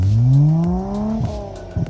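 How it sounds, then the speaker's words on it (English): A Nissan R34 Skyline GT-R M-Spec with a Mine's titanium exhaust revs in first gear under light throttle: a close, loud engine note climbing smoothly in pitch, then easing off, with no talking. "Let's put it down in 1 gear and let's put some little bit of gas."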